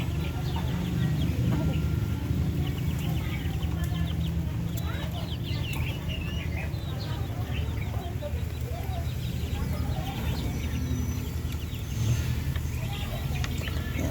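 Month-old Darag native chickens on a farm cluck and chirp continuously, many birds at once at a moderate distance, over a steady background hum.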